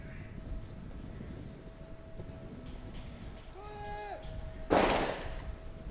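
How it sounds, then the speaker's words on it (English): A single sharp sniper rifle shot cracks out at a UAE SWAT Challenge 2024 shooting range, fired at prone targets. It lands loud and abrupt after a stretch of steady background noise, and a whistle-like tone rises just before it. "There goes the first sniper shot."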